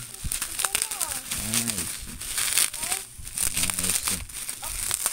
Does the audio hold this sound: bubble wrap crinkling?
yes